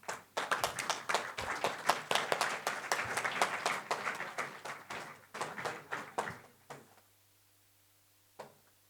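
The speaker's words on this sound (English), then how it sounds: "A round of applause, please." A small audience at a product launch and MOU signing gives a round of applause, sharp separate claps from a modest group that thin out and stop after about seven seconds, with one last stray clap.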